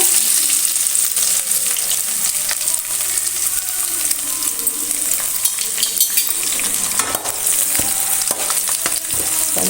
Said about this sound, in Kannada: ಇವಾಗ ಶುಂಠಿ ಬೆಳ್ಳುಳ್ಳಿ ಜಜ್ಜಿ ಇಟ್ಕೊಂಡಿದ್ದೀವಲ್ಲ ಅದನ್ನು ಹಾಕೋಣ